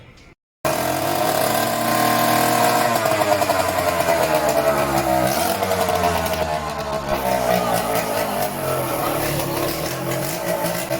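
A Yamaha DX100 motorcycle engine fitted with a fresh magneto starts up after a brief pause, then runs loud and steady with a few rising revs before settling to a continuous idle.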